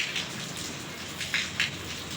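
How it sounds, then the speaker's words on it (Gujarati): Rain falls steadily as a dense, even patter, with a couple of louder splashes or gusts near the end and no voices. "ઇન્દ્ર મહારાજે વરસાદ શરૂ છે"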